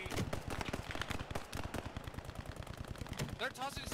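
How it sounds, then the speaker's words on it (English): Rapid gunfire from a Post Scriptum battle, with mortar fire going out, forms a dense, continuous stream of close shots and bangs while players talk over the fighting. "Mortar's going out 200 meters."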